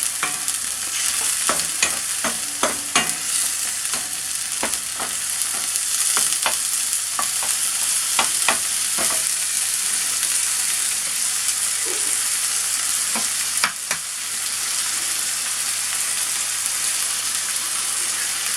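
Egg fried rice sizzles hard in a pan over full flame, a steady loud crackling hiss broken by the frequent scrape and clatter of stirring, heard close.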